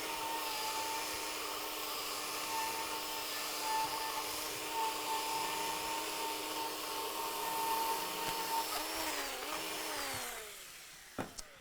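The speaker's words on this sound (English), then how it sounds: "So now I'm gonna switch the direction of the drill and go one more time." A power drill spins a brush to scrub wax out of the grooves of a canoe, a steady whirring drone with a high whine that holds for about ten seconds before winding down and stopping with a couple of clicks.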